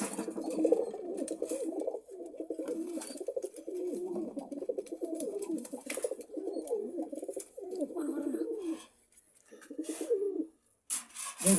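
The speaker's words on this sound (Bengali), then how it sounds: "কবুতরের ডাকটা দেখাবো।" A pigeon in a loft gives soft, repeated throaty coos in a steady rhythm of phrases with brief pauses, fairly quiet and close.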